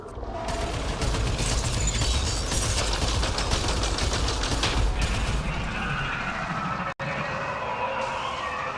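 Dense game combat in Mass Effect Andromeda, with sustained loud mechanical gunfire and clattering action filling the scene, plus a brief sharp cutout near the end.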